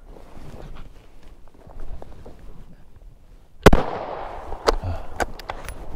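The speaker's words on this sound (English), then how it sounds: "Shouldn't have to have two shots of the 223 to kill a fox in a trap at 2 feet" A .223 rifle fires at a fox held in a trap two feet away, a sharp loud crack with a ringing decay, followed by a second shot, over outdoor rustling and footsteps.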